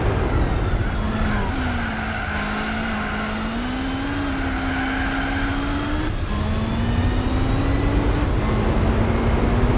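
A Bentley racing in Gran Turismo 4, its engine a loud, sustained drone that climbs in pitch and drops sharply at each gear change, with a faint tire squeal under it and no talking.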